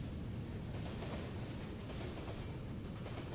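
A train in the Brick Rigs video game rolls past close by, giving a steady, dense rumble with faint rail clatter that holds at an even loudness throughout, with no talking.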